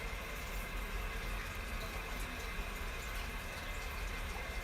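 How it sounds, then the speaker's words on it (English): Water rushes loudly through household pipes in a steady, unbroken roar that holds an even level throughout, with no voices over it. "Man, our pipes and water are so loud right now."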